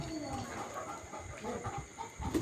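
Chickens on a poultry farm, a dense chorus of clucking and squawking birds at close to moderate distance with a faint steady hum behind.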